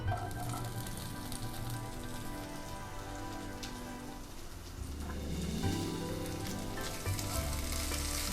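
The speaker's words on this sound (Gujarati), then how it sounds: "પછી એમાં ડુંગળી અને કેપ્સિકમની સ્લાઈસ એડ કરીશું." Onion and capsicum slices sizzle in hot ghee with cumin seeds, a steady close frying crackle with dense spattering throughout, rising a little near the end.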